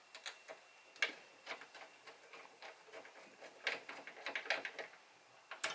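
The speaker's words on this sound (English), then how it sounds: "Using the provided screwdriver." A provided hand screwdriver drives screws while a clamp-on retractable keyboard tray is installed, giving quiet irregular clicks and ratchet-like ticks, close and sparse against near silence.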